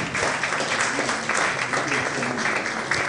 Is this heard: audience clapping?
yes